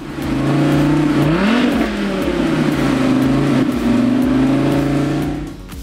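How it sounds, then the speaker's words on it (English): A race car engine at a racing school track roars loud and close, revving up with a pitch rise and then holding a steady, throaty drone before easing off at the end. "he's still hooked on the roar of the engine"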